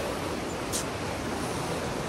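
Broad, steady rushing of the flooded Vashishti River at Chiplun fills the whole clip, a dense unbroken roar with no voices.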